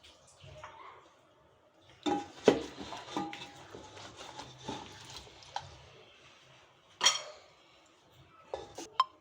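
Cooked mutton chops are served from a pan into a dish, with scattered clinks and scrapes of metal utensils and cookware, soft to moderate, some louder knocks, in a home kitchen.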